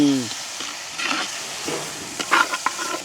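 Pounded garlic, ginger, cumin and pepper fry in a pan with a crackling sizzle and scraping stirs, a few sharper pops and bursts near the end, close and alone.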